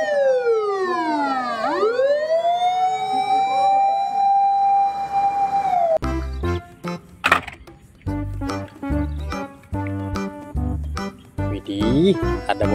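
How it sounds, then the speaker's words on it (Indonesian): Toy ambulance siren wailing loudly with a sweeping, rising and falling tone, followed by a rhythmic jingly toy tune with repeated beats. "Ada mobil ambulan."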